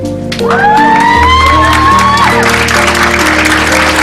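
Graduation ceremony audience clapping and cheering, a broad wash of applause with whoops and shouts rising over it, loud and close throughout, with some voices mixed in.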